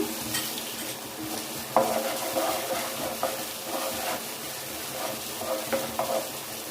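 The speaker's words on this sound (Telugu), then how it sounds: "ఇలా కలుపుతూ ఉండాలి, లేకుంటే అడుగంటుకుంటుంది." Softened food is stirred steadily in a hot pan to keep it from sticking to the bottom. A continuous sizzle of frying runs under repeated scraping strokes, close by and moderately loud, with no one talking.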